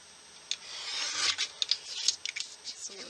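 Scissors trimming a sheet of puppy stickers and chipboard pieces down to small cards, a string of crisp, close snips and rustling paper in quick irregular bursts, with no talking.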